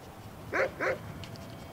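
A hellhound companion dog in Skyrim gives two quick, close barks in a row, followed by faint whimpering yips against a quiet game backdrop.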